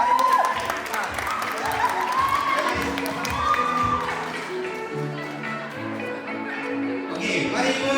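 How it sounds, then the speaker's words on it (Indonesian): A school crowd of teachers, staff and children claps and cheers for a teacher at a World Teachers' Day gathering, steady applause mixed with shouts and whoops, with voices talking through it. "tepuk tangan untuk ibunya"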